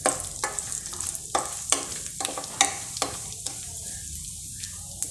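Whole spices, green and black cardamom, cloves, cinnamon and a little sugar sizzle in hot oil for prawn and cauliflower pulao, a steady close fry crackle broken by repeated sharp stirring scrapes, with no talk.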